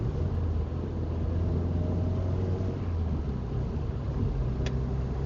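An Alfa GTV engine runs steadily with a deep, continuous rumble while the car struggles and loses power on a drive, droning evenly throughout with a brief faint tick near the end.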